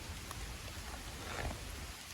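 Steady rain falls outdoors as a constant, even hiss of drops that fills the whole stretch, soft and fairly distant with no voices.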